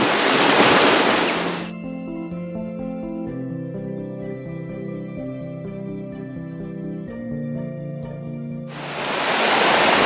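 A fast-flowing River Dovey in Wales, swollen after a rise, rushes loud and steady at the start and again at the end, with tuneful music filling the stretch between.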